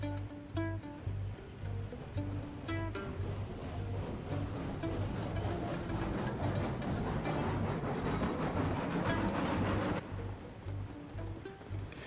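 A steam train pulling forward in the video game RailRoads Online, a steady rumbling roll with rhythmic mechanical chuffing and clanks, building louder before easing off near the end.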